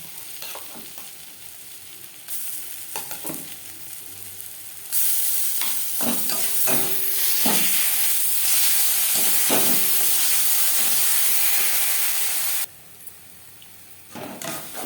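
Onion and garlic sizzle in a pan, the frying hiss jumping louder as green banana peel is added, with stirring scrapes and a few clunks.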